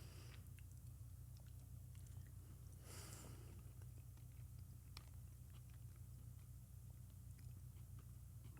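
Close, steady chewing and biting of rehydrated freeze-dried lasagna, soft and moist with occasional small crunches, over a constant low background hum and no talking.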